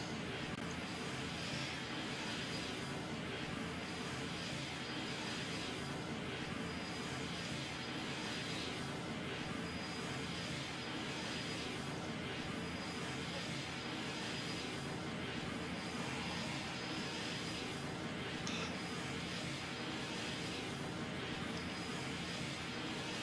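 Jet engines of an Antonov An-124 cargo plane in the Roblox game Aeronautica, a steady, dense roar with a constant whine that continues unbroken and unchanged for the whole stretch, with no talking.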